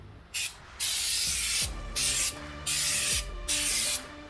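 Parts of a Volkswagen TDI-swapped Jeep LJ get spray painted with an aerosol can, heard as five bursts of hiss with short pauses between them, close and loud, a faint rattle underneath and no talking.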